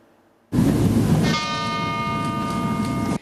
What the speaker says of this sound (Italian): i rintocchi della campana della Torre Civica